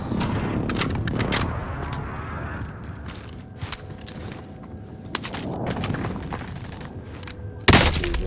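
Gunfire in an online shooter game, a dense stretch of rapid shots and impacts with bursts of fire, a quieter middle, then a sharp, loud blast near the end.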